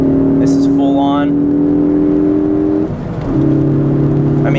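A Ford Focus ST engine is rev-matched on a downshift to fourth gear. Its loud, steady drone dips and then rises again in pitch, with a voice briefly heard over it.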